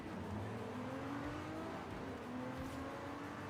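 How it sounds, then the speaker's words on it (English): A car engine in the Forza Horizon 5 racing game holds a steady, moderately loud drone with gently rising revs, running continuously with no talk. "listen to that engine! It's quiet, but oh!"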